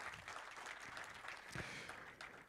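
Audience applause for Dr. Simon Bevy, director of faith-based non-profit Transform Nation, as sustained crowd clapping fills the room with dense, steady patter.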